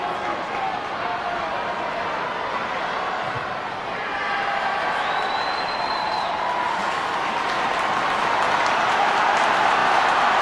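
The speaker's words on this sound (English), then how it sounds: "you can hear the crowd here at McDermott Park" Big stadium crowd of about 10,000 at McDermott Park during a Scotland v Japan rugby test, a steady broad roar of cheering and applause held at full volume throughout, with a faint whistle-like tone partway through.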